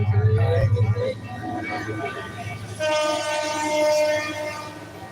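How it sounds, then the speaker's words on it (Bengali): A train rumbles past with a long blaring horn, rolling steadily and fairly close, while voices are heard at the start. "ওই যে ওই যে ওই যে ওই যে ট্রেন।"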